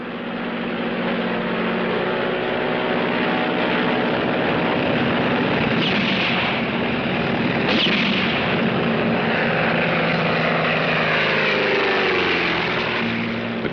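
A propeller airplane roars loudly as it swerves off a runway and climbs, a dense, continuous drone that swells and shifts in pitch around the midpoint with no voices over it.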